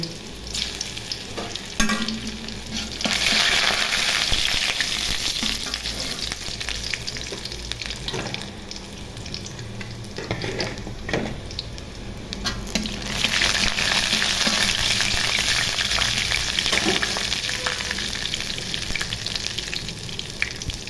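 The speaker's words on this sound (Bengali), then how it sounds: "তেল গরম হয়ে গেছে, একটা শুকনো মরিচ দিয়ে দিব, রসুন কুচি দিয়ে দিব। রসুন কুচিটা একটু ভেজে নিব।" Chopped garlic and a dried chili fry loudly in hot oil as the tempering for radish greens. The sizzle is close and continuous, with bursts of stirring and spatula scraping and a louder crackle partway through.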